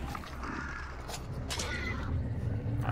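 A horse whinnies in the video game Hunt: Showdown, a short neigh from nearby against a noisy background of game ambience, with no talk over it.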